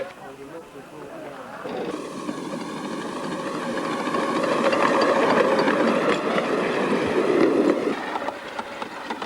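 Hunslet 0-4-0 saddle tank miniature steam locomotive on 7¼-inch gauge track at Betws-y-Coed, a mechanical rumble building to a loud, steady chuffing run before easing, with someone talking over it.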